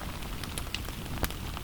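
Wet rain mixed with snow falls steadily at a campsite, making a dense, even patter with scattered sharper drips and taps close by.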